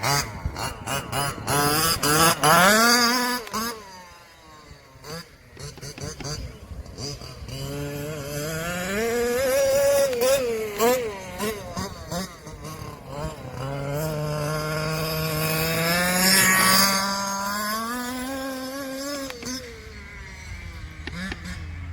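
A gas-powered Losi 5B RC car engine, refitted with new 56/22 gearing, runs and revs repeatedly with rising and falling pitch, loud and close, through most of the stretch.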